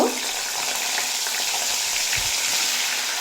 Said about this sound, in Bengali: দেখুন আলু খুব ভালোভাবে ভেজে নেওয়া হয়ে গেছে এরপর তুলে নেব আর ওই একই তেলে ফুলকপিও